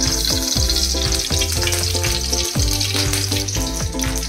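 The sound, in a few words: oil heating and frying in a kadai for masala rice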